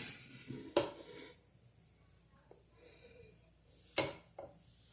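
Serving glasses being set out for a Ramzan ice cream milkshake, giving a couple of sharp clinks of glass on a hard surface, about three seconds apart, with faint kitchen handling sounds between them.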